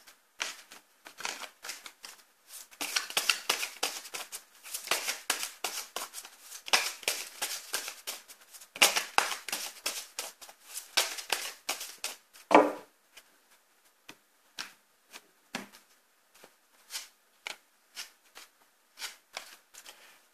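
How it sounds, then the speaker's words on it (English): Tarot cards being reshuffled by hand: a steady run of crisp riffling and slapping bursts, close and fairly loud, thinning into scattered single taps and flicks toward the end, with no talking. "Okay, so I'm just going to reshuffle these cards."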